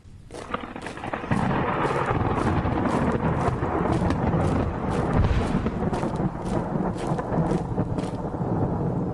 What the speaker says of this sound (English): It's only a storm.